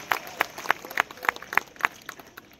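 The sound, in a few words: audience applause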